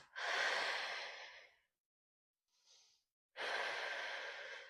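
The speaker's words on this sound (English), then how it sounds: "breathing it out." Two long, close breaths during a mat pilates stretch, each a strong airy rush lasting over a second, separated by a faint short inhale and a moment of silence.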